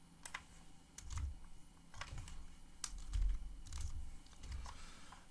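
A computer keyboard clatters as a number is typed in, several light, quick keystrokes in small clusters, quiet and close.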